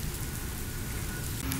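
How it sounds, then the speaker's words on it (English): Rain falls outdoors in a steady, dense hiss, even and unbroken from start to finish, and no one speaks. "It's been raining all day."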